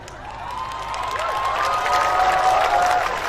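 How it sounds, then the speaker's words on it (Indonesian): An audience at an Indonesian religious lecture claps and cheers, the applause building into a steady, fairly loud wash over several seconds, with a voice calling out over it. "Kenapa banyak orang tepuk tangan?"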